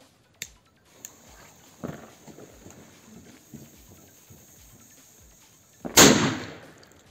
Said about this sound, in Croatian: sljedeća petarda koju pucamo jeste eksploziv 1